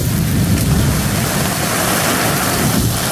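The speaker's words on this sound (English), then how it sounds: "This is actually the hardest I've seen it rain so far." Heavy monsoon rain pours down in sheets over muddy ground, a loud, steady roar with deep rumbling undertones and no breaks across the whole stretch.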